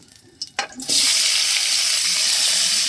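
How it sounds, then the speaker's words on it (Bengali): Potatoes dropped into hot mustard oil for a cauliflower fish curry: a couple of soft clinks, then a sudden loud, close sizzle that holds steady and bright to the end, with no voices. "দিয়ে দিচ্ছি সর্ষের তেল দিয়ে দিচ্ছি আলু"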